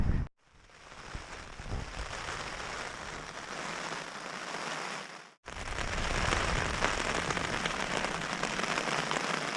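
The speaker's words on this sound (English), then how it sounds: "it did turn out to be quite windy and rainy" Heavy rain and wind beat on a tent during a mountain trek, a dense, steady patter and hiss that cuts out briefly twice and then returns.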